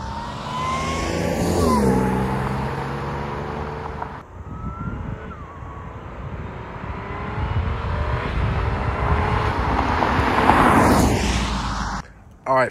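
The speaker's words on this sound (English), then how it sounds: "So I have a Ram air intake on here right now, and when this passes by, you can definitely hear it screaming" An Audi S4 fitted with a ram air intake roars past, its engine note rising loudly and then dropping away, with a second swell of engine noise near the end.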